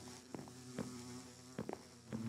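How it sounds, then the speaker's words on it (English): Bee buzzing in a beehive in a Minecraft modpack (All the Mods 8), a soft droning hum with a few short clicks and bumps over it, fairly quiet and with no talking. "and oh, there's a bee in this one."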